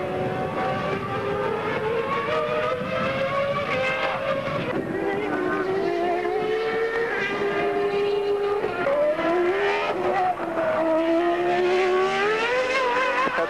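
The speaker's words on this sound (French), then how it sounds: "C'est vu embarqué dans la Ferrari de Michael Schumacher." A 1996 Ferrari Formula 1 car heard from onboard during qualifying at the Argentine Grand Prix. The engine wails loud and close throughout, its pitch rising and dropping sharply through gear changes.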